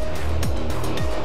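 NASCAR Cup Series cars, including Chase Elliott's number 9 Chevrolet, roar past on the Michigan oval in the closing laps, engine notes dropping sharply in quick succession as each car passes.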